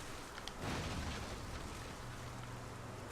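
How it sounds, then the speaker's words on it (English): Steady rain in the video game Nioh, a dense continuous hiss of falling water with a faint low rumble underneath, and no voices. "And back into the rain."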